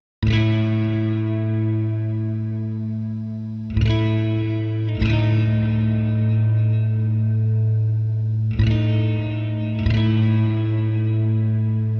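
Clean, chorused electric guitar chords through Neural DSP's Archetype: Rabea amp plugin ring out with long sustain, restruck about every few seconds in a steady rhythmic pattern, close and alone.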